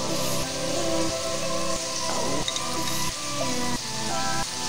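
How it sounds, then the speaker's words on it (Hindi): Ginger garlic paste frying in a pan for Chettinad chicken curry gives a dense, loud, rain-like sizzle that holds steady throughout, with faint stirring sounds close up and no speech. "अदरक लहसुन का पेस्ट डालूंगी।"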